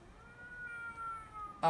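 A cat in the video game Gaokao 100 Days gives a faint, drawn-out meow over quiet background sound, then a short louder burst cuts in at the very end.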